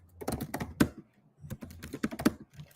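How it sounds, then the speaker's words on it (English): Quick bursts of keystrokes on a computer keyboard as a kubectl command is typed, close and clear in two short runs separated by a pause. "So we can now type something like kubectl"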